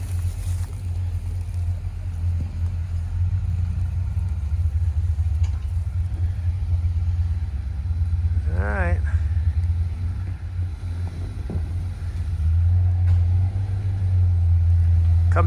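Off-road vehicle on a Connecticut trail run crawling over a hard rock ledge, its engine a steady low rumble throughout, swelling slightly toward the end, with voices talking over it.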